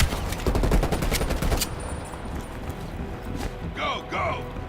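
Rapid bursts of gunfire from a Call of Duty Black Ops Cold War firefight, dense and loud early on and then thinning to scattered shots, with a player's voice talking over the action.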